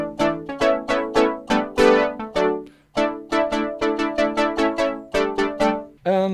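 A Roland JX analog synthesizer plays a bright, plucky patch in a fast run of short, separate notes with a clear rhythm, loud and alone.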